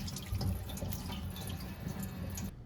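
Tap water runs steadily into a sink as sandy sweet potatoes are rinsed under it, a close, continuous splashing flow that cuts off abruptly at the end.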